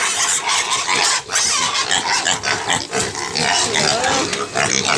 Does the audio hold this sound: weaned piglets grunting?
yes